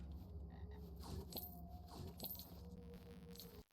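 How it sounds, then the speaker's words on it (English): A frog in the video game YapYap gives a series of close, throaty croaks over faint game ambience, with no talking. "I gotta find more frog. There was a frog over here."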